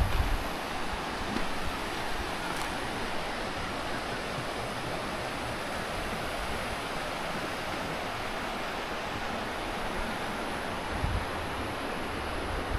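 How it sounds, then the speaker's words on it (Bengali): The Reli river flowing in the hills, a steady broadband rush of water heard continuously and fairly softly, with no voices over it. "এই যে রেলি নদী"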